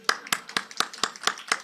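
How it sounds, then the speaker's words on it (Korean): Church congregation clapping during a Korean Sunday service, about eight evenly spaced sharp claps in a steady rhythm, fairly close and clear. "박수!"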